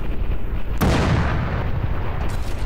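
Player's weapon firing in Arma 3 with a Warhammer 40K mod, one sharp loud blast followed by a long rumbling boom that fades slowly over background noise.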